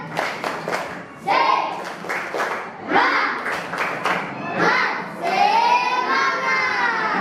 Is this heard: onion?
no